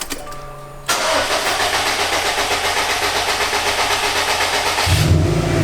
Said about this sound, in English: go ahead, start the car